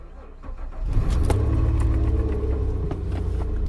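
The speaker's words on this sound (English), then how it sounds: "so we have our engine running." A Nissan SUV or truck engine (Xterra, Frontier, Pathfinder or Armada type) turns over and settles into a steady, close, low rumbling idle with no talk.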